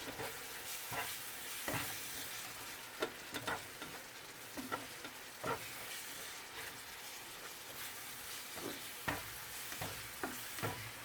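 Ground meat for chili sizzles steadily in a pan while a utensil scrapes and stirs it in repeated sharp strokes, close and fairly loud, with no talking.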